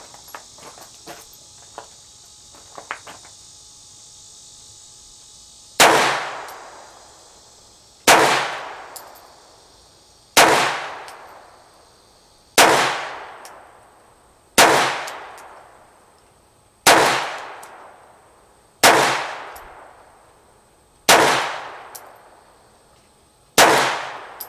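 Handgun fired weak hand only at 5 yards on a shooting range, ten loud sharp shots spaced about two seconds apart, each ringing out and decaying, after quiet faint clicks.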